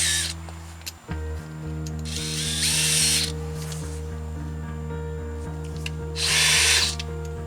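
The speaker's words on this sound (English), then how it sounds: "I'm gonna be using my handy dandy DeWalt drill bit and power drill" A DeWalt power drill whirs in two long, loud bursts while drilling holes to install a front plate on a 2004 Infiniti FX35, over a steady electrical hum, with a brief clunk near the start.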